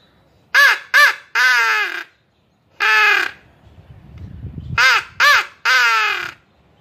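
Harsh crow caws imitated on a turkey call, mimicking a fighting crow: three quick calls, a pause, a fourth, then a faint rustle before three more rapid caws, loud and close.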